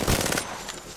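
Gunfire in a video game: a brief, dense rattle of rapid shots that fades within about half a second, loud and close, with no speech.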